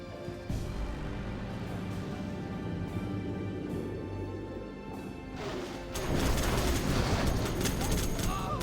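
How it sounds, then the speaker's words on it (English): Massed minigunner gunfire in an infantry-mirror strategy game battle, a steady crackling stream of rapid shots that swells into a louder, denser barrage near the end, with no speech over it. "massive minigunner fight here"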